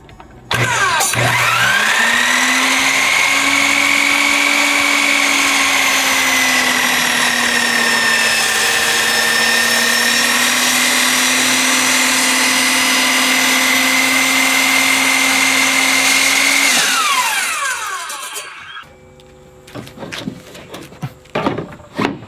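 A miter saw spins up and cuts through wood for a bluebird house, a loud sustained whine for about fifteen seconds before winding down into quieter shuffling.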